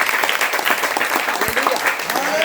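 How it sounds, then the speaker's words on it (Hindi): A church congregation at a Sunday service claps together in a dense, lively burst of applause that stays steady and fairly loud throughout. "ताली बजा के खुद को स्वागत करो।"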